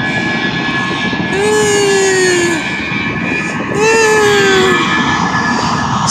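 Loud, steady roar of an airplane engine during takeoff, swelling in two waves with a rising whine, heard from nearby on the ground with continuous broadband rumble.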